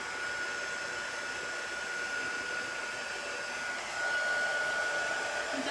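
Hair dryer blowing over damp chalk art on a chalk stencil project, a constant close, even whooshing hum with a faint high whine, running alone without talk.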